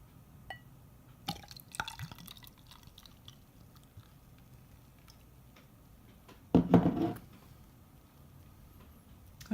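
A can of Mythica Succubus Golden IPA is opened with small clicks and drips, then beer pours briefly and loudly into a glass before settling into quiet fizz.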